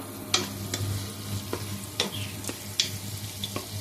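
Onions fry in oil with cardamom, cloves and cinnamon for a chicken korma, a low steady sizzle broken by repeated sharp clinks of a spoon stirring against the pan, close and fairly quiet.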